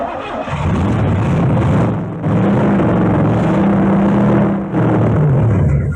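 A Chevrolet Camaro barn find that has sat for 32 years cranks over loudly with a plugged carburetor, the starter churning in long steady bursts broken by two brief pauses, with no talking.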